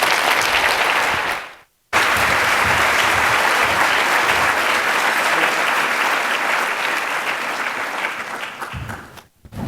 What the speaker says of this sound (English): Mayor Jadwin, Arye, Carol, and Dr. Meadows, let's give them one more round of applause.